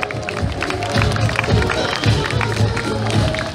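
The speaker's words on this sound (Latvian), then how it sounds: "Lūdzu ar aplausiem!" A sports event crowd claps and cheers in a steady, fairly loud burst, with rhythmic thumps and a murmur of voices mixed in throughout.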